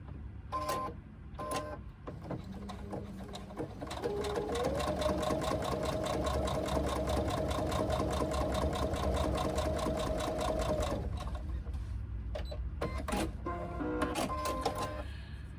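A sewing machine stitches a D-ring tab on a pouch, running steadily for several seconds in a rapid, even mechanical rhythm, with a rising motor whine, shorter bursts of stitching before and after, and no talk.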